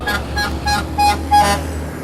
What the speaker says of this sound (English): that's a horn honk